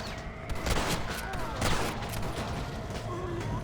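Rapid gunfire rattles through a zombie-infested Red Dead Redemption: Undead Nightmare shootout, a dense, continuous volley of shots and impacts with a voice faintly underneath.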